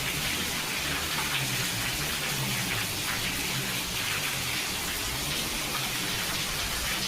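Steady rain falls outdoors in a village during the monsoon, a dense, even hiss of drops across the whole stretch, with no voices.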